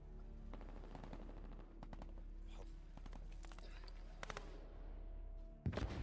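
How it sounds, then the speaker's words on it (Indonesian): Bursts of gunfire from another building crackle in rapid volleys, fairly distant, over a low rumbling background, in a war-film scene set in Mosul. "Tiba-tiba terdengar suara tembakan dari gedung lain"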